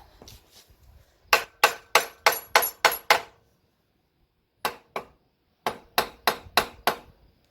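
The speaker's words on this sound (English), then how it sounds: "let's tap on this guy, see if we can get her to separate a bit" A tool taps on an aluminum case to work it apart: a quick burst of six sharp knocks, a pause, one knock, then five more in an even rhythm, close and clear in a quiet room.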